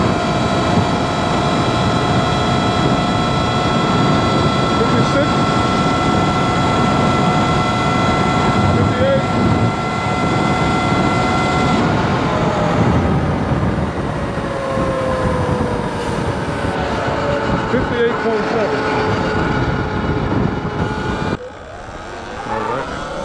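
A Surron LBX electric dirt bike with an upgraded controller running at top speed uphill, its motor whining in rising and shifting tones over loud wind roar, with someone talking over it and the pitch sliding near the end.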